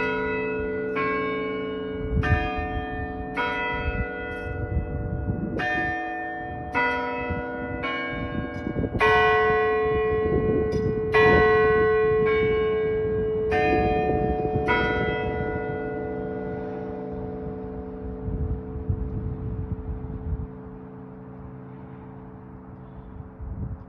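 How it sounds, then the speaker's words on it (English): Historic clock tower bell at Boothe Memorial Park chiming three o'clock: a long series of loud, ringing metallic strikes at a steady pace, then a lingering hum that fades into outdoor ambience, with no speech. "it's almost 3 o'clock right now, so I bet this is about to chime"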